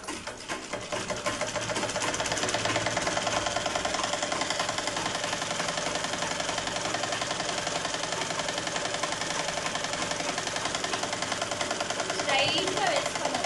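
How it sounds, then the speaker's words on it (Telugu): A sewing machine stitching straight along two joined blouse edges, running as a steady, rapid mechanical whir for most of the time after a short start. "ఈ టూ ఎడ్జెస్ని ఫస్ట్ కలిపి స్ట్రైట్గా ఒక స్టిచ్ చేసుకోండి"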